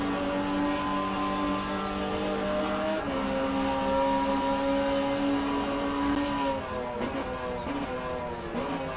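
V12 Jaguar XJS racing at Bathurst in the rFactor 2 racing game, a steady loud high engine drone from inside the car with shifting pitch as the revs change, heard alone.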